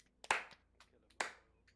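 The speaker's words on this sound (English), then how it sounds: "give him a bit of a round of applause," Two sharp, separate hand claps ring out in a quiet room after a pub quiz, about a second apart, each close and crisp with a short decay.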